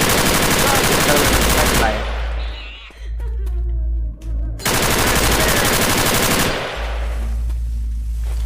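Rapid automatic gunfire from a video game gun roars in two long loud bursts, split by a short gap of quieter game sounds.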